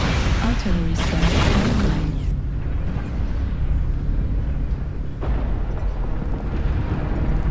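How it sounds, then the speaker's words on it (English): Artillery strike explosions in the MechWarrior Online video game produce a loud, heavy rumbling roar that fills the space for several seconds, with a second surge of blasts rolling in partway through. "Artillery strike."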